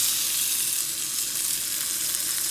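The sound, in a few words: sautéing mango pieces in ghee in a pan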